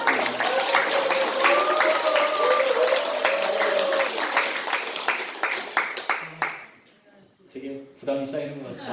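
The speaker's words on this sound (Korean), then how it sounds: "오늘 되게 박수를 많이 치시네요." Audience applause at a Korean church gathering: steady clapping from many hands that thins out and stops, while someone speaks over it and continues talking afterward.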